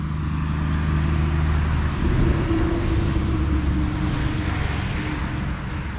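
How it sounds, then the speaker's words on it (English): A continuous loud engine roar from passing road traffic, with a steady low drone holding for several seconds, peaking slightly mid-way and easing off toward the end. "sorry about the traffic"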